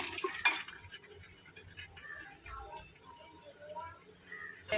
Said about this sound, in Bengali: এবার আমি এই আলুগুলো ভেজে রেখেছিলাম এর মধ্যে দিয়ে একটু কষিয়ে নেব